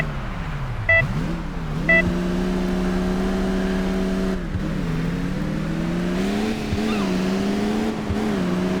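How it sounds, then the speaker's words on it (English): Car in the PC driving game Crash Time 3 cruising steadily alongside a truck, a continuous engine drone with slight rises and falls in pitch and a couple of brief chirps, no talk. "Semir, I want you to drive the car steadily next to the truck so that Ben can jump across"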